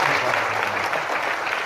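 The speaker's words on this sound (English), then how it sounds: "Big round of applause for that." An audience at an interview session aboard the Cruise to the Edge music cruise claps steadily, a dense, close wash of applause that holds at an even level throughout.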